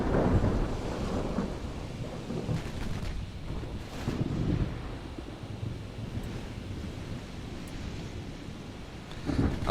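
A thunderstorm at sea in Ultimate Admiral Dreadnoughts: rumbling thunder rolls over constant wind and crashing waves, with several heavy swells of low roar spread through the scene.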